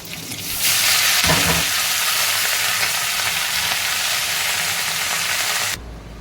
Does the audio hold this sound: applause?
no